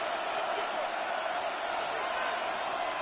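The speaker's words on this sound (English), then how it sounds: "one play in, one sack later, and this crowd is rocking" A stadium crowd in the Madden 26 football video game roars steadily after a sack, with a dense, continuous wash of cheering and noise.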